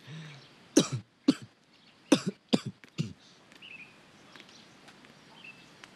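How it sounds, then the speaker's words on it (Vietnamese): A man coughs and clears his throat in a run of about six rough, close coughs over roughly two seconds. Quiet follows, with faint bird chirps in the background. "sao giờ này con thấy ba ho nhiều quá vậy"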